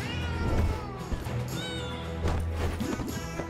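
Cat characters meowing in the video game Potionomics: a couple of short, tonal mews rise over busy game music and background sounds, with no talking.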